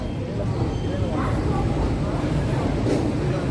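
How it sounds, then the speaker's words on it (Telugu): A MEMU passenger train rolls slowly to a halt at a station platform, a steady low rumble with faint rail clatter continuing throughout at moderate distance. "ఏదో మెమో ట్రైన్ ఆగింది."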